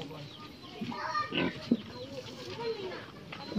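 A pig grunts a few times at close range, partly masked by people talking over it.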